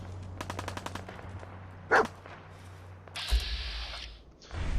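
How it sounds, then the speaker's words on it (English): Bursts of automatic and single-shot gunfire ring out across the ruins of Concord in Fallout 4, rapid rattling volleys followed by a sharp nearby blast and later a harsh sustained mechanical roar. "as we come up through Concord, we start hearing some gunfire"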